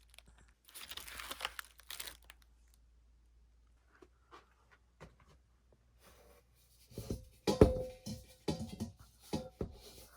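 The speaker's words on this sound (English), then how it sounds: "then I'll wrap it in some large 1/2-inch bubble wrap" A brass planter is wrapped in large half-inch bubble wrap. Crinkling and rustling plastic comes in bursts, with a quiet stretch in the middle, then louder crunching and handling noises close by.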